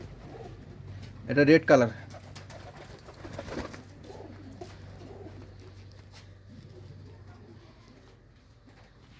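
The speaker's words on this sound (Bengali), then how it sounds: "বাসিরাজ কোকার ডাকটা খুব ভালো লাগে, ওদের ডাকটাই ব্যতিক্রম ডাক" A red deshi koka pigeon coos close by in a loft, a couple of short, throaty calls standing out early, with someone speaking briefly and a low background hum.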